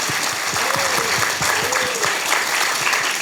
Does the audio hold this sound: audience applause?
yes